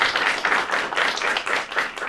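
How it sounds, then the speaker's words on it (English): A small audience claps for a former congressional representative, a short burst of loud, close applause with clearly separate hand claps. "Please give a round of applause"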